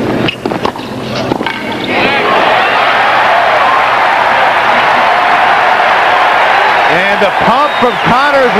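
A tennis crowd at the 1991 US Open roars and cheers in a loud sustained wave that swells from quiet, with a commentator's voice speaking over it near the end.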